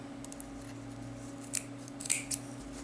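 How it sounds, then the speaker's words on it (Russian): A few quiet snips of scissors cutting yarn while knitting a backpack, soft close clicks near the end over a low steady hum. "Теперь я обрезаю нитку."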